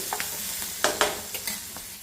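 Tempering spices sizzle and crackle in hot oil for a potato kurma in a home kitchen, with several short sharp pops and a soft spluttering bed of sound.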